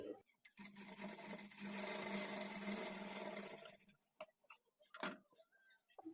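A sewing machine stitches blouse fabric in one steady run of about three and a half seconds, close and fairly loud. It is followed by scattered clicks and handling sounds.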